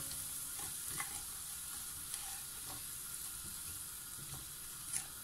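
Spices with salt and turmeric cooking on low heat in a pan for turnip sabji, a faint, even sizzle with occasional light stirring scrapes, steady and subdued throughout.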